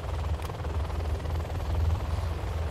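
A helicopter in the Command and Conquer Generals video game gives off a loud, steady rotor thump and engine drone, heavy in the low end, that continues with no break and no talk.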